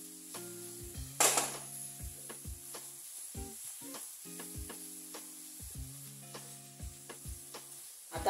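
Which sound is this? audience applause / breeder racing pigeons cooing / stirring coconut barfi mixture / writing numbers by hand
stirring coconut barfi mixture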